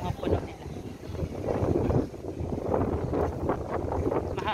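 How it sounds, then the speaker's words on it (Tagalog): Gusty wind buffets the microphone in uneven rumbling bursts, with faint rustling mixed in. "Mahangin."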